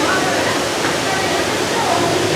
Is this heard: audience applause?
no